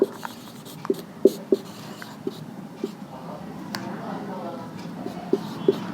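A teacher writing on a board during a history class, with soft intermittent taps and scratches of the marker or chalk spread across the clip beneath a quiet room tone.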